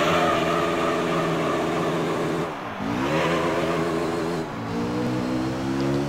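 A race car engine in the Gran Turismo video game, revving as high as 11,000 RPM, holds a loud, steady harmonic drone. It dips twice as the revs fall and climb back during gear changes, with no talk over it.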